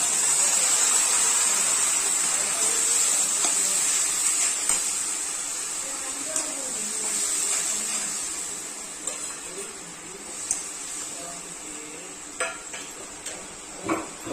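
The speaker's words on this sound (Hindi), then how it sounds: "हम इसे अच्छे से लाल होने तक भून लेंगे, 4 से 5 मिनट तक।" Garlic, ginger and onion paste with turmeric frying in a kadhai gives off a steady, bright sizzle, broken by occasional clinks and scrapes of a stirring utensil against the pan.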